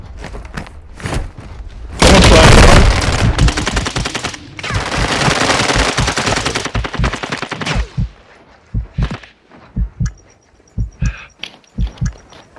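Gunfire in the game Warzone 2: bursts of rapid automatic fire, loud and close, followed by a series of single heavy shots spaced out in an irregular rhythm, with no talk over them.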